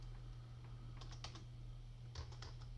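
Light keystrokes on a computer keyboard as a blog post title is entered in WordPress, two short clusters of soft taps over a steady low electrical hum, faint and close, with no speech.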